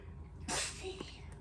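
A single sharp sneeze bursts out in a kitchen while seasonings are being mixed, a brief loud breathy blast standing alone against a quiet room.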